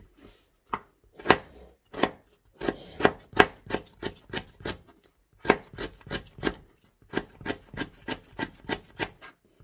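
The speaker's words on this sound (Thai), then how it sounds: "เอต้องหั่นตะไคร้ก่อนเพราะต้องใส่ตะไคร้ก่อน" Repeated sharp knife chops through lemongrass on a cutting board in quick, uneven bursts with short pauses, close and fairly loud, no voices.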